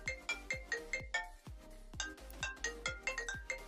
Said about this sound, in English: Of course I get a phone call, not right now.